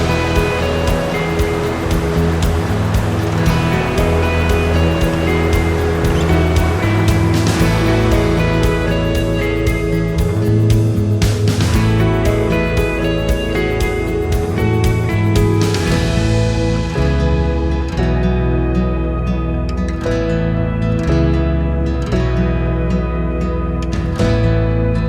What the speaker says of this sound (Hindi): छोटी सी वाटरफॉल थी जो मैंने कहा मैं आपको दिखाते चलूँ।